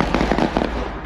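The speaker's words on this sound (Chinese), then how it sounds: "还有人开枪" Gunshots near a village in the Amazon rainforest jungle: a quick series of sharp, crackling bursts with a rough, popping rhythm over steady background noise, fairly loud and close, with no talking.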